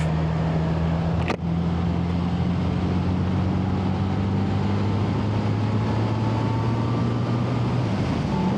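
A 1975 Honda Goldwing GL1000 motorcycle engine runs close and loud in a steady drone, its pitch slowly easing upward as it pulls, with rushing wind noise throughout and one sharp knock early on.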